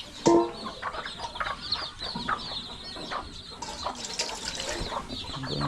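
Chickens cluck in a close flock around a water dish, a busy overlapping chatter of short calls with a brief louder burst near the start, no talk over it.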